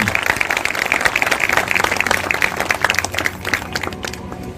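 Church congregation clapping along during worship, a dense run of claps heard close and loud throughout, with some voices mixed in beneath the clapping.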